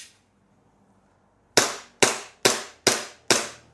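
An airsoft Glock 18 gas blowback pistol fires five sharp, loud shots after a second and a half of near silence, each crack decaying quickly, spaced at a steady rhythm of about two per second.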